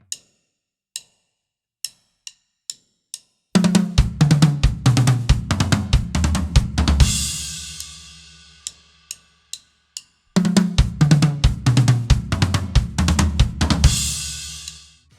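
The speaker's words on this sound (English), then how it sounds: "And now let's add a left hand between each note of our right hand." On a large drum kit, a metronome clicks alone, then a fast drum fill plays with left-hand strokes between right-hand notes, loud and close, ending on a crash; after a few more clicks the fill repeats.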